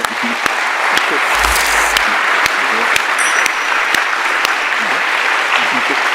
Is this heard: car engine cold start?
no